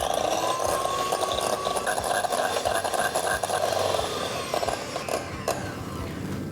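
Egg white with a drop of lemon juice being whipped for meringue, a steady, close mechanical whir of beating that runs without a break throughout.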